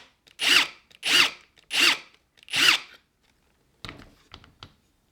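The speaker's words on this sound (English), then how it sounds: "to countersink this, I need to use an 8mm drill bit" Four short bursts from an electric drill with an 8mm bit cutting a countersink in pallet wood, each whir about half a second long and evenly spaced, followed by quieter scraping and handling sounds.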